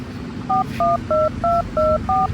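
A telephone number being dialed: six evenly spaced, clear keypad tones beep one after another over a low background hum.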